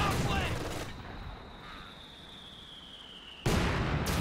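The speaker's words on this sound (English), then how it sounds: "That's the US mortar doing the damage." Mortar and artillery fire in a Company of Heroes 2 one-versus-one battle between US and Oberkommando West forces, with heavy booming blasts at the start and end around a quieter stretch, and a voice talking.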